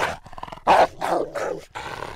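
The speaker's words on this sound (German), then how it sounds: "fängt Suzuki an zu knurren und die Zähne zu fletschen" A dog in a German radio play growls and snarls in short rough bursts, one loud surge partway through, close and fairly prominent, with no talk over it.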